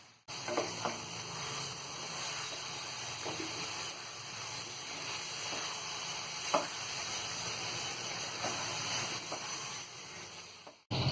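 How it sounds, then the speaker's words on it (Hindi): Grated carrot halwa is fried with mawa in a pan, giving a steady close sizzle with occasional soft scrapes of stirring throughout. "मावा डाल के हम इसे 2 से 3 मिनट और भूनेंगे"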